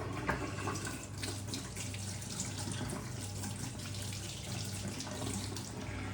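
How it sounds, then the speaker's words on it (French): Tap water running into a bathroom sink to rinse it, a steady close splashing rush of water lasting throughout with no talk. "on va rincer le lavabo parce qu'il y a plein de morceaux d'herbe qui sont déjà tombés dedans"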